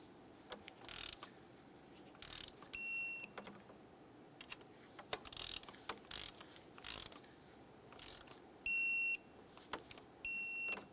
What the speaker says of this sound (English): let's go ahead and torque each of these to 89 inch-pounds